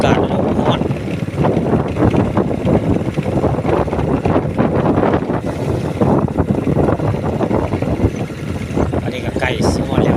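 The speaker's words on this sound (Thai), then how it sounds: "เป็นลมๆเลยไหมลมแล้วก็ร้อนเลยวันนี้" Wind blowing at a Thai reservoir on a hot day, a steady loud broadband rush buffeting the microphone throughout, with gusty low rumble and no voices.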